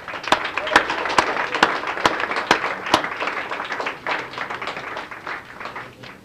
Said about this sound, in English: Can we just give these young people a round of applause?